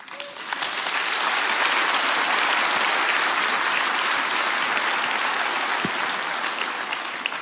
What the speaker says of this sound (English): Could we have another round of applause for Dr. Gabor Maté?